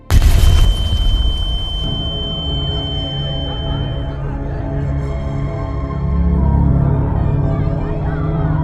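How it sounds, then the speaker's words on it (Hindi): A big explosion sound effect hits with a sudden loud blast, then rolls on in a long, deep rumbling decay. "तभी एक अचानक से बहुत बड़ा धमाका हुआ।"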